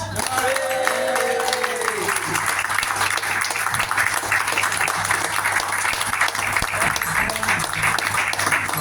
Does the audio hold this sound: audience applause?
yes